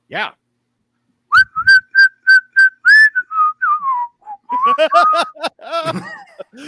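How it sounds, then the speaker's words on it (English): A person whistles a jaunty signal tune of about ten short, even notes followed by sliding, warbling phrases, close and clear, with a brief vocal sound at the start. "I'm gonna go ahead and give my secret whistle"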